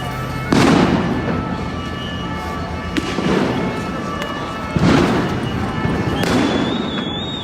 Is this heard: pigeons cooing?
no